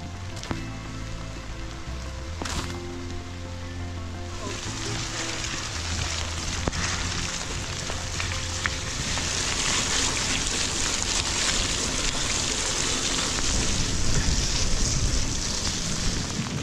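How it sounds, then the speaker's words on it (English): Steady rain falls across a Florida swamp, a dense hiss that thickens and grows slightly louder over time, with a few faint low rumbles early on and no clear voices. "We're getting hit with the red rain that hiker warned me about this morning."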